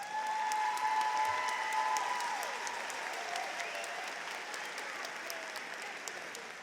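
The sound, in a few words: graduation ceremony audience applause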